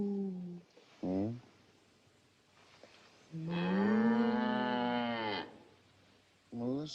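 A farm cow lowing, one long loud moo stretching over about two seconds mid-clip, with shorter voiced calls before and after it; the animal sounds close and clear.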